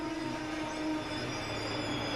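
An ICE high-speed train runs on rails with a steady, faint mechanical rumble and a sustained tonal whine, continuous with no break.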